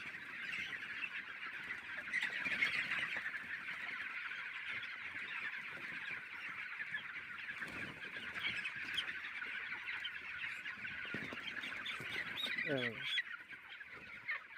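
A large flock of white poultry-farm chickens fills a shed with a dense, steady wash of clucking and squawking, with the odd louder call rising near the end.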